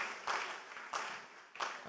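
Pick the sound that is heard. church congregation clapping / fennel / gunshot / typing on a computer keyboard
church congregation clapping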